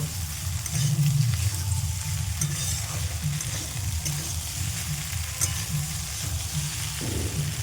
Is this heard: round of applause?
no